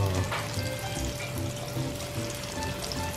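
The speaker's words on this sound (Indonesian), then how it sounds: "Kita goreng bagian yang kedua ya." Chocolate banana pastries frying in hot oil, a steady close sizzle with faint bubbling throughout, no talking.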